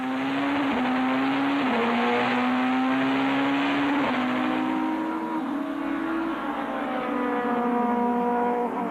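BTCC touring cars at a 1998 race start at Brands Hatch, a loud in-car engine roar climbing through the revs with sharp drops at each gear change, continuous and close.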